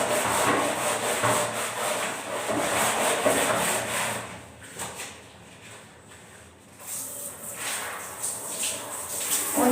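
Close, steady scrubbing of a surface to remove yellow stains, a rough continuous rubbing that pauses briefly midway and then resumes.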